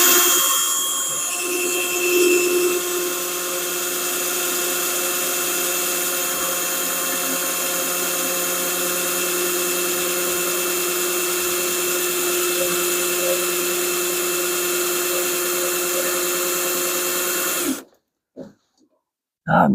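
A power drill whines steadily and loudly through the metal car body of a Plymouth Duster for a long stretch, then cuts off abruptly, leaving brief quiet and a few faint knocks.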